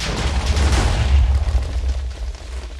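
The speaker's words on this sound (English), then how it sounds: "So yeah, one small explosion to start off with, and let's see what type of area we clear with this." A TNT block blows up in Minecraft, giving a loud, deep booming blast whose rumbling roar fades slowly over a few seconds.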